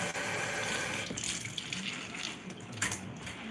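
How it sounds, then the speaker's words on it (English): Tap water runs steadily in a kitchen while fresh spinach is rinsed under it for a morning breakfast, a continuous close splashing gush with small shifts as the leaves move through the stream. "Let me rinse this off."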